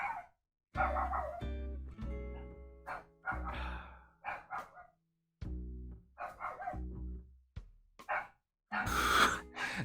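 Several dogs bark in loud, irregular bursts close by, with a whimpering yip among them, filling most of the stretch with short pauses between volleys.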